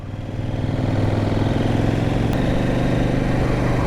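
CF Moto 800 NK motorcycle engine pulling hard in third gear, a loud, close, continuous throbbing drone that rises and holds steady without pause.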